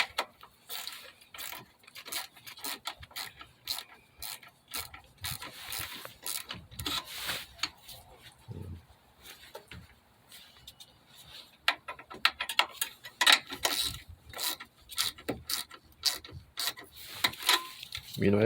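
A wrench tightens the hold-down clamp on a car battery, giving a string of short ratcheting clicks and scraping metal rubs in uneven bursts, close and fairly quiet, with no talking.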